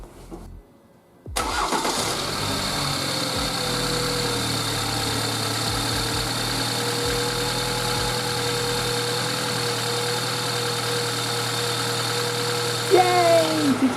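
A BMW 2 Series (F22/F23) with a B46 engine cranks and fires up after a spark plug change, then settles into a steady, close idle with a constant hum and a slight rev near the end.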